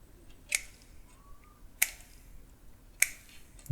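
Metal snips cutting through Christmas light wires, three crisp, sharp snaps spaced about a second apart, close and isolated, with a faint thud at the very end.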